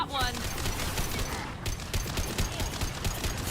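Sci-fi weapon fire in Mass Effect 2, a sustained barrage of rapid shots with a sweeping whine at the start, loud and continuous, with combat voices mixed in.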